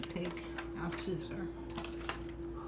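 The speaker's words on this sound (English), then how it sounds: "I'm going to make a little slit here on an angle going up." Scissors snip an angled slit into paper while a mini scrapbook journal is being made. A few crisp, close cutting clicks come in quick succession.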